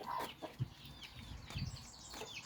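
Chickens on a farm cluck in short, soft bursts at a moderate distance, with faint outdoor ambience between the calls.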